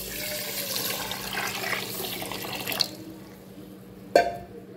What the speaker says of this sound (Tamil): இப்போ தண்ணி ஊற்றி அரை மணி நேரம் ஊற வச்சிடலாங்க